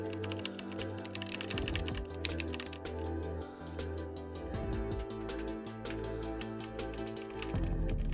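Steady clicking of a mechanical keyboard with gray keycaps being typed on, quick keystrokes running continuously beneath loud background music.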